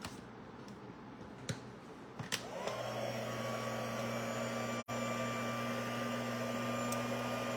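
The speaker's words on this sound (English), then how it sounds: "let's turn on my heat tool" A card-making heat tool clicks on and settles into a steady whirring hot-air blow with a high whine, running alone and unbroken apart from a momentary dip midway.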